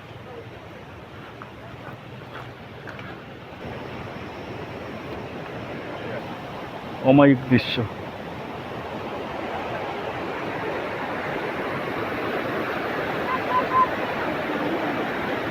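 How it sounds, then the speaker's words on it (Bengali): Broadband rushing water from a waterfall at Jogighat keeps up a steady roar across the whole scene, with someone talking briefly over it midway. "জলের শব্দ শুনতে পাচ্ছেন আপনারা?"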